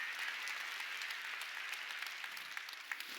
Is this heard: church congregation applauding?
yes